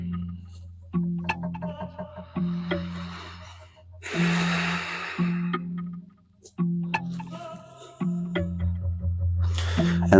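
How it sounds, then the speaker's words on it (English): Slow breaths during a yoga hip session, with one audible exhale in the middle and softer breathing elsewhere, all over gentle background music. "Take a few breaths with a neutral spine."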